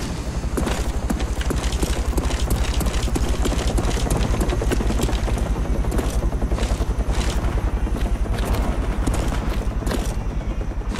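A care package helicopter arrives in the video game Call of Duty Black Ops, giving a loud, steady rotor chop throughout with rumbling game noise underneath.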